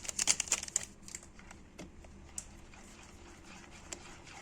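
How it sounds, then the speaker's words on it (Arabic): Vanilla sachet handled while making a Fanta sponge cake batter of eggs, ghee and sugar, giving a few quiet close crinkles and rustles at the start, then faint scattered taps in a quiet kitchen. "هحط كيس الفانيليا اهو"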